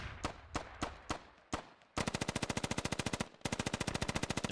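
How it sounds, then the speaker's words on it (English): Gunfire in the military shooter game Squad: a handful of separate single shots, then two long bursts of rapid automatic fire, loud and close, with no talk. "They're slinging bullets back and forth."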